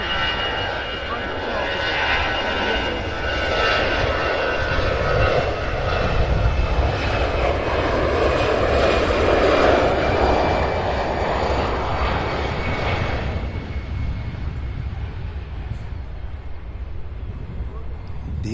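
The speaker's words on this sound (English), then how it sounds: "Beautiful takeoff for Allegiant there." An Allegiant airliner takes off at CVG airport in Cincinnati, its loud engine roar rising and swelling as it climbs, then fading toward the end.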